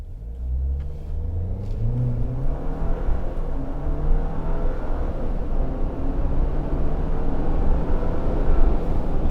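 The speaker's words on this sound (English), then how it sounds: "Under the bonnet, we have Fiat's 2-litre inline-4 turbo, which puts out 270 horsepower and 295 pound-feet of torque from the factory." A 2020 Jeep Wrangler with a Fiat 2-litre inline-4 turbo pulls away, its engine droning and rising steadily in pitch as it accelerates, loud and continuous from inside the vehicle.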